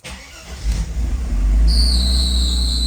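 A classic Mercedes is started on a very cold day. The engine cranks, catches and settles into a loud, rumbling idle close by, with a high squeal from a struggling serpentine belt rising over it.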